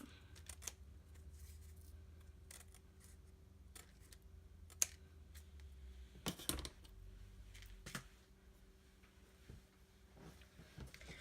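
Scissors trim the edge of craft material for a Christmas shaker, giving a quiet series of short snips and rustles, close and soft, with no talking.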